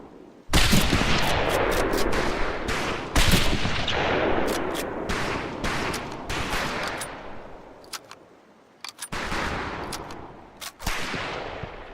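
Bursts of video game gunfire from Medal of Honor Pacific Assault, loud repeated shots and rapid volleys with short gaps between them, echoing over a battle soundscape.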